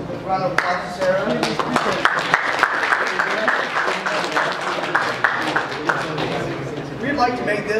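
A live audience applauds at a TERP10 session, a dense, steady wash of clapping that lasts the whole time at close range.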